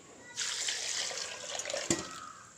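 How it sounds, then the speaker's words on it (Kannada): Water pours over pieces of tender bamboo shoot in a container: a steady, close splashing stream that lasts about a second and a half and ends with a small knock. "ಈ ಥರ ನೀರು ಹಾಕಿ ಇಟ್ಬಿಡ್ತಾರೆ"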